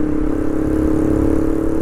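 A TVS Raider 125 motorcycle fitted with an aftermarket exhaust, riding at steady speed, with a loud, even engine drone and heavy wind rumble, close and constant with no talk.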